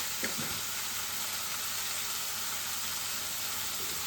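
Tomatoes with salt sizzle and fry steadily in a pan while a ridge gourd curry is being made, a continuous close hiss with a few faint stirring clicks near the start.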